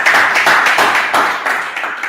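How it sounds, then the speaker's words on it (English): A small group at a youth foundation gives Mr. Femi a round of applause, with close, loud, brisk clapping sustained throughout. "Let's give a round of applause."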